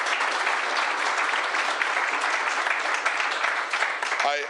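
An audience at a public announcement claps steadily for several seconds, a full, even roar of many hands that fades at the very end as a voice begins.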